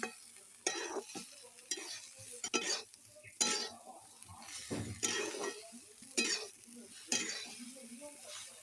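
Vegetables dusted with chili powder are stirred and fried in a pan, giving a steady close sizzle broken by repeated scraping strokes and light clinks of a utensil against the metal.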